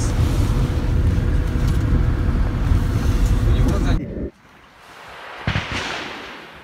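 A car driving on a road in Moscow gives a steady close interior rumble for about four seconds, then cuts abruptly to quiet with a couple of faint knocks.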